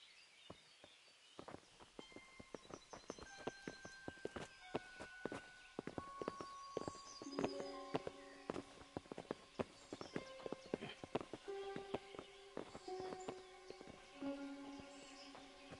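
Horse hooves clip-clop steadily on hard ground in the game Kingdom Come: Deliverance, several animals walking in an uneven, overlapping rhythm, with sustained musical tones running underneath.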